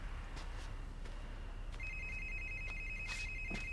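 A telephone rings in a quiet room, a warbling electronic trill that starts partway through and repeats in steady bursts, fairly clear over faint background noise.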